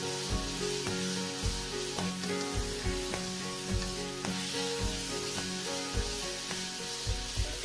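Ginger, garlic and chilli sizzle steadily in a hot pan, a dense bright hiss broken by regular low knocks and scrapes of stirring, close and continuous with no talk.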